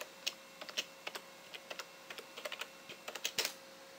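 Fingers tapping on a computer keyboard to enter a username and password, quick irregular clicks in short bursts, crisp and close in a quiet room.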